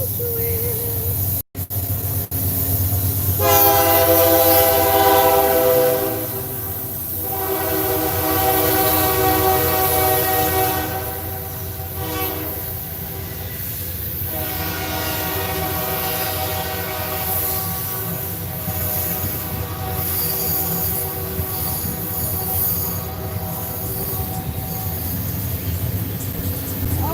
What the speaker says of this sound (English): wouldn't be right without the train in the background